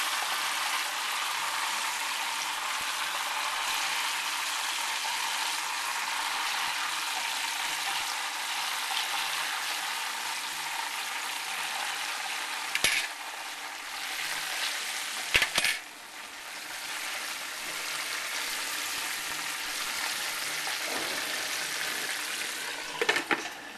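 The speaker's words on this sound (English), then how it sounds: "let's put a little bit more chicken in here and continue our frying process" Steady, loud sizzling of chicken frying in hot oil, with a few brief clinks of utensils partway through.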